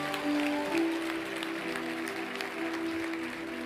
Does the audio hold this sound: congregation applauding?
yes